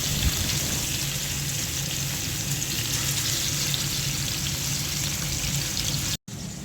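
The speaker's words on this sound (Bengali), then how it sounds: "এখন মাছটা আমি দিয়ে দিচ্ছি তেলের মধ্যে।" Fish sizzles in hot cooking oil in a home kitchen, a steady crackling hiss that runs evenly and close, with a brief dropout just before the end.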